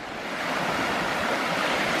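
Rough surf at St Lucia Estuary, a loud continuous rush of breaking waves with wind noise, building slightly and holding steady.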